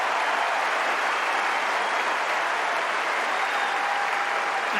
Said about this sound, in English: The applause is for both these players.